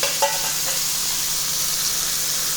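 Chopped capsicum, tomato and cabbage sizzle steadily in a hot pan, a continuous close frying hiss with a couple of faint stirring clinks near the start.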